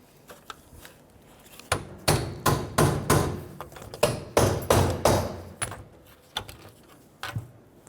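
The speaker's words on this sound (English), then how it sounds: "I'm just using our punch driver to go ahead and continue working these out." Metal punch driver struck repeatedly with a hammer against a rear brake backing plate on a 1999-2004 Jeep Grand Cherokee, a rapid run of sharp, close, ringing blows clustered in the middle with a few scattered taps before and after.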